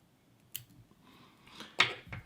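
Scissors snip through a hackle tip at a fly-tying vise, giving a couple of short, sharp close-up cuts with a quiet gap between them.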